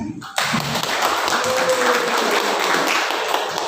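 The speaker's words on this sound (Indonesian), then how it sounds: "Tepuk tangan." A community meetup crowd breaks into applause, a steady broadband wash of many hands clapping that starts abruptly and continues evenly, fairly loud, with faint voices beneath.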